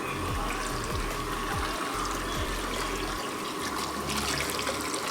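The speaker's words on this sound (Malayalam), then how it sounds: "നമുക്ക് ആദ്യമായിട്ട് ഉരുളിയിലോട്ട് കുറച്ച് വെള്ളം ഒഴിക്കാം" Water poured into an uruli cooking pot, a steady close splashing stream that runs for several seconds.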